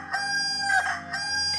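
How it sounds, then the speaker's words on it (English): A black cockerel crows in distress, a single drawn-out harmonic call lasting over a second, loud and close with some bright overtones. "cried the cockerel in great distress"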